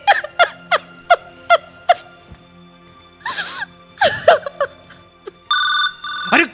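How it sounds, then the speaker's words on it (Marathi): A mobile phone rings on the set of a comedy sketch shoot, a run of short repeated electronic ring pulses, followed by laughter and voices, then a sustained ringtone burst near the end. "ह्याचा वाजला फोन वाजला कट करा"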